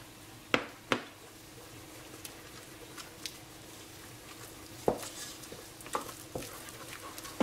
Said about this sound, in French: Une fois que mon beurre a fondu, je vais mettre ma farine.